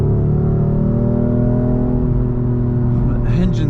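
A 2018 BMW M4 engine drones steadily under load from inside the cabin, a sustained rising hum with a faint voice near the end.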